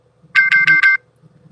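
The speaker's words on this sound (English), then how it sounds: "Ooh, that's my alarm." A phone alarm rings loud and close as four quick identical electronic tone bursts, each with a buzzy low undertone, then stops, with no voices over it.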